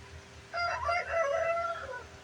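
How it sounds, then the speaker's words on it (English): A rooster crows once, a clear drawn-out call lasting about a second and a half, moderately close over a quiet low background hum. "That's one of the roosters."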